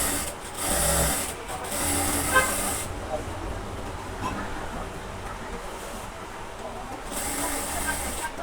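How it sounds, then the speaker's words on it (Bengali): A sewing machine runs in short bursts while stitching fabric for a child's pant, its fast whirring rattle starting and stopping with quieter gaps between runs, close and fairly loud. "আমরা এখন এখানে একটা চাপ সেলাই দিয়ে নিব।"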